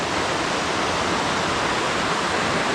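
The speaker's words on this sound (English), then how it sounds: "it's all orange water going straight out into the river." Orange mine runoff pouring straight into a river beside a mining area, a steady broadband rushing of flowing water, loud and close, constant without breaks.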